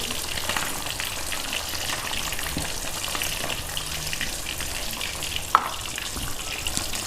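Pieces of coated fish sizzle steadily in hot oil, a continuous dense frying crackle with one brief sharper pop near the end, no voices.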